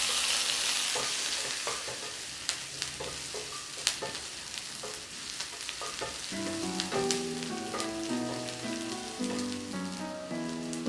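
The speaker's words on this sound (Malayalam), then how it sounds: "അതിനുശേഷം കുഞ്ഞുള്ളി നീളത്തിലരിഞ്ഞത് ചേർത്ത് കൊടുക്കുക. നമുക്ക് നന്നായിട്ട് ചെറിയ ബ്രൗൺ കളറാവുന്നവരെ ഇങ്ങനെ ഇളക്കി കൊടുക്കാം" Thinly sliced shallots sizzle and crackle steadily while being stirred in a pan to brown them for a duck mappas curry. A few stirring scrapes sound close by, and a musical backing enters partway through.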